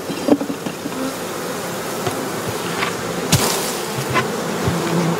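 Honey bees buzz continuously around a hive fitted with a propolis trap, a close, dense hum with scattered louder passes and faint tapping sounds.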